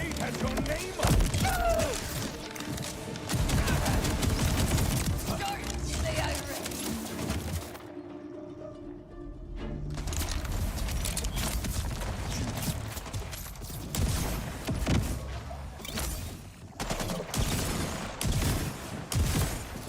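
Borderlands 4 gunfire crackles in dense, near-continuous volleys with clanking mechanisms and a brief lull partway through, while a person talks over the action.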